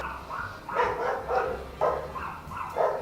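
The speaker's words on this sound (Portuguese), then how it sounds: "cachorro, para de fazer barulho, pelo amor de Deus." A dog barks repeatedly indoors, four or five separate mid-pitched barks spaced about half a second apart, moderately near with no talk over them.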